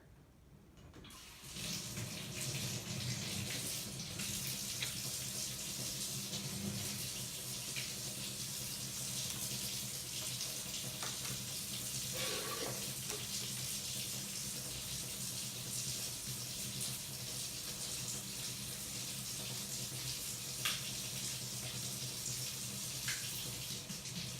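Water streams steadily from a kitchen sink tap, cold water running as a part is rinsed while setting up a Breville Barista Express espresso machine; a constant close rushing with no speech.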